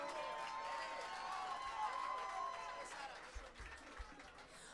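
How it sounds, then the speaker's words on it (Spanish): Audience applause at a live jazz concert in a club, a moderate wash of clapping and crowd noise that fades toward the end, with a few louder thumps and voices in the room. "Un aplauso para Luis"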